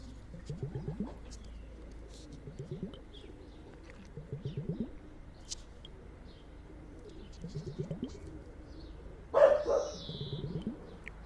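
Several dogs bark outdoors in daytime, coming in repeated bursts of yapping at moderate distance, with a sharper, louder bark near the end and birds faintly calling in the background.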